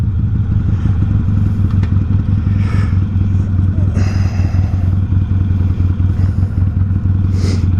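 A motorcycle rides along a freeway exit with a broken rear brake, the engine drone steady and loud throughout, with faint clatter and thumps over the running noise.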